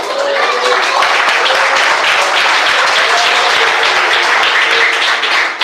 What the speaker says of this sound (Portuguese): Pode assentar, bater palmas e dar glória a Jesus.